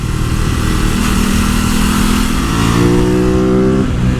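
An Aprilia RS660 motorcycle engine revs up steadily, its pitch climbing loud and close with no other sounds.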